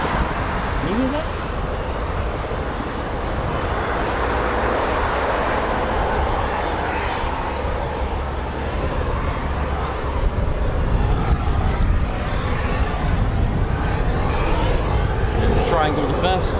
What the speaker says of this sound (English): I hear a chopper.